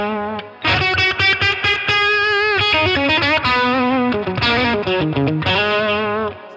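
Electric guitar plays a distorted lead through a Line 6 Catalyst amp on its crunch channel, loud and close with sustained bending notes and quick picked phrases, no talking.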